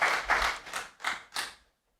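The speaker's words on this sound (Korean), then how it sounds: "우리 환영의 박수 하겠습니다." Welcoming applause for a visiting pastor and his wife during a Korean church service, several bursts of clapping from the congregation that fade to silence after about a second and a half.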